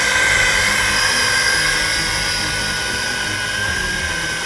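A YiZhan i8H Tarantula drone hovers at night with a steady, high-pitched rotor whine, held at a constant level throughout.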